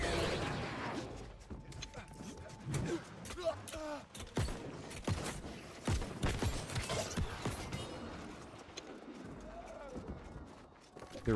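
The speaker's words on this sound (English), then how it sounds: "I'm hearing some explosions." Explosions go off in the online game New World: Aeternum, scattered sharp booms and cracks at irregular intervals, some near and some distant, mixed in with a person talking throughout.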